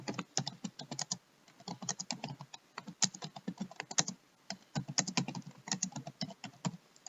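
Keys on a computer keyboard are tapped in quick irregular bursts of crisp clicks, close and fairly quiet, with short gaps between runs of typing.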